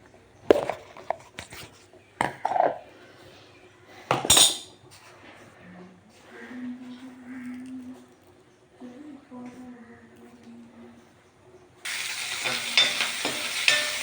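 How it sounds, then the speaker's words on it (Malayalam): Spoon knocks and scraping against a pan, a quiet voice, then a sudden burst of hissing, crackling sizzle as mustard and fenugreek seeds hit hot oil. "കടുകും ഉലുവയും കൂടി ഇട്ട് കൊടുക്കാം"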